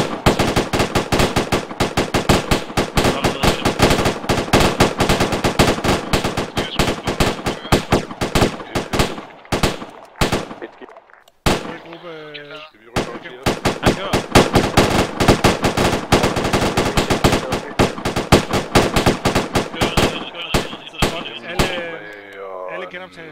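Dense, sustained bursts of rifle and machine-gun fire as a squad opens fire together in the military game Arma 3, loud and continuous with a brief lull midway before the volley resumes.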